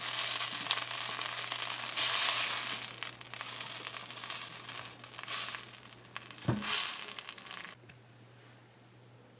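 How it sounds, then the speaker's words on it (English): Butter melting in a karahi gives a close, continuous sizzle with brief louder crackles and a few stirring scrapes, thinning out and going quieter near the end. "So we are melting our butter here."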